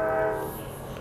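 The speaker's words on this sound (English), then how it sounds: "There's the morning train." An early-morning train passes with its horn blowing, a sustained tonal blast that holds briefly and then fades, with a low rumble beneath it.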